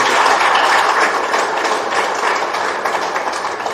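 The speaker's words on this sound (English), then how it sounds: "Can we all give Lewis Hamilton a great hand of applause?" Broad, steady applause from an audience at a media briefing, filling the whole moment with dense, even clapping that holds at a loud level before easing slightly toward the end.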